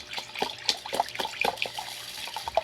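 Water pouring from a tap onto rice in a pot, a close, gentle splashing and trickling stream with small irregular splashes, no talk.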